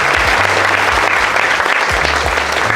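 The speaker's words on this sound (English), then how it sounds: "I give you a round of applause" A round of applause from an audience at a launch event, with dense, loud, continuous clapping throughout and a low rumble of music or hum beneath it.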